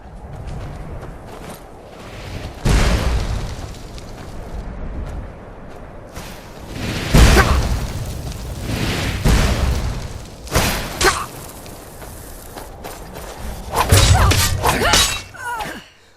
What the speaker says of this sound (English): are immediately forced to run to cover to avoid the giant fireballs being hurled in our general direction